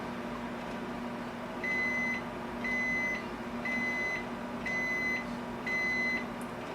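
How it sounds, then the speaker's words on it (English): A Toshiba electric rice cooker signals that it is done with five evenly spaced electronic beeps. They ring clearly over a steady low background hum, with no voices. "when it beeps 5 times, it's ready to go."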